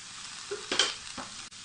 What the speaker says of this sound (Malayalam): അപ്പോൾ ഇത് നമുക്ക് ഈ ചൂടായ ഓയിലേക്ക് ചേർത്തിട്ട് വഴറ്റി കൊടുക്കണം